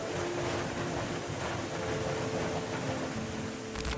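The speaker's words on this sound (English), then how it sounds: "Steamboat roared to life, hurling boiling water, superheated" Steamboat Geyser in Yellowstone erupts on a frigid morning, a steady loud roaring rush of boiling water and steam, broadband and continuous like heavy surf or wind throughout.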